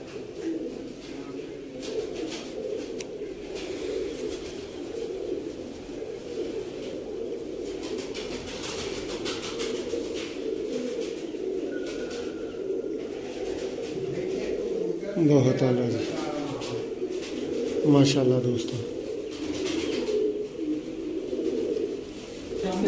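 Teddy pigeons at a rooftop loft in Sialkot give soft, low rolling coos now and then beneath someone talking over steady outdoor background noise.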